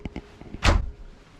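A full-length cabinet door on a 2022 Prevost Liberty luxury coach swings open with one short, fairly close thump and rattle, after a few faint soft clicks.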